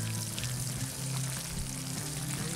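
Fish fillets fry in hot oil for fish and chips, giving a steady, close sizzle and bubbling that fills the whole moment without talk.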